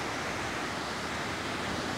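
A river rushes through a valley near a cave at Devil's Bridge in Armenia, a steady broadband roar of flowing water, close and unbroken throughout.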